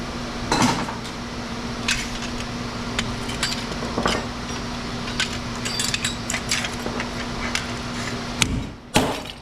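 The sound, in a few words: hammering copper out of scrap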